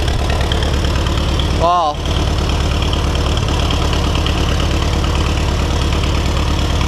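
An Oliver 550 tractor engine idles roughly and unevenly, a steady low throb running throughout at close range, with someone briefly speaking over it.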